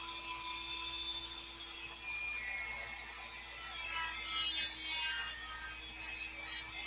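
A Dremel sanding drum works against wood with a steady, faint rasping whir, a thin high motor tone running throughout and growing briefly harsher midway.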